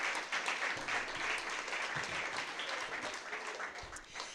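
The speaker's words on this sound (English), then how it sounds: "I just think that deserves a huge round of applause." Applause from a room at a professional post-race press conference for the Ironman World Championship, a steady, moderately distant clatter of many hands that holds throughout and tapers slightly at the end.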